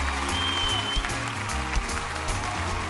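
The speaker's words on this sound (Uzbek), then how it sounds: "Mana bu olqishlar ham sizga." Applause from an audience at the super final of a singing contest greets the season's winner. Broad clapping continues steadily at moderate volume, mixed with a low musical bed, with no talk standing out.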